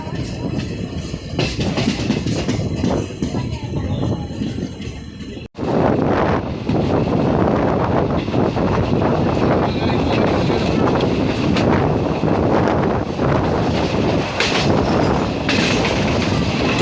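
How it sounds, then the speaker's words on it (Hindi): A passenger train runs on the Parbhani–Jalna line, its wheels clattering steadily and loudly over the rails with rushing wind noise, briefly cutting out midway before the continuous rumble resumes. "तो हमारी ट्रेन मानवत रोड से भी निकल गई।"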